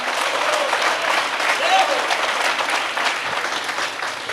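An audience claps continuously, a dense steady patter of applause that stays fairly even throughout.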